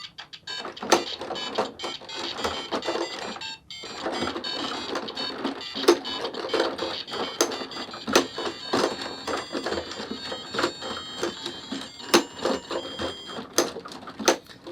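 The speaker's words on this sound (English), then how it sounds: "he plays a little theme tune from the actual Mario game and does some sound effects" A busy electronic jingle from the small speaker of a LEGO NES toy playing a Super Mario theme tune, tinny and bright, with clicks and beeps scattered throughout and no talking.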